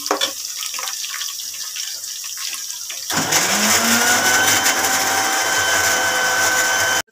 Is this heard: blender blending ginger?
yes